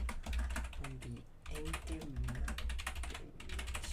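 Rapid, steady clicking of keys on a computer keyboard while writing LaTeX, close and continuous, with a voice speaking quietly underneath at times.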